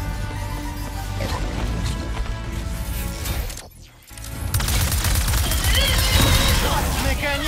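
Dense gunfire and explosions fill a combat scene in the video game Ratchet & Clank: Rift Apart, loud and continuous with a brief dip midway, over game music.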